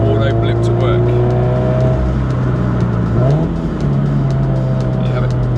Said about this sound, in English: Next thing I'm going to show you is the auto blip.